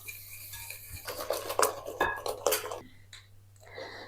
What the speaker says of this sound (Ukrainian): Наступне додаю 200 г цукру і перемішую вінчиком.